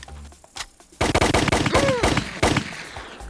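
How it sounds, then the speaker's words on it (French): Rapid bursts of gunfire crack out close and loud, several shots in quick succession like automatic weapons firing blanks. "les armes qu'on utilise sont chargées à blanc"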